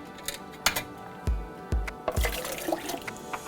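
Soaked coconut and water, one cup to two, tumble into a plastic blender container in a few quick splashy pours with dull low thumps and clinks, close up and moderately loud, no voices.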